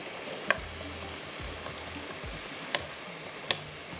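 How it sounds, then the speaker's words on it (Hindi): Onions browning in a pan for Kashmiri chicken masala, stirred with a wooden spoon: steady close frying sizzle throughout, with a few sharp clicks as the spoon knocks the pan. "इसको हमने ब्राउन करना है, कलर देना है प्याज को"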